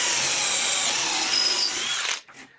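A power drill with a spade bit bores steadily into timber for about two seconds, a loud high-pitched grinding whine that cuts off abruptly near the end.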